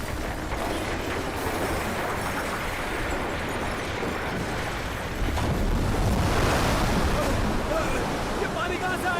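Floodwater rushing in during a tsunami disaster scene, a heavy roaring wash that surges louder around the midpoint and keeps churning to the end, under a faint, indistinct voice.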